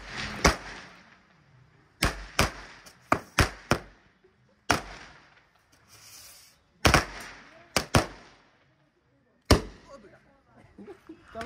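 Diwali firecrackers pop at a household celebration: about a dozen sharp, loud, close bangs come in irregular bursts, some in quick pairs and triplets, with people talking in between.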